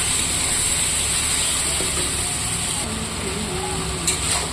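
Garlic fries in a pan after a little water is added, giving a steady, close, loud hiss and sizzle that runs through the whole clip.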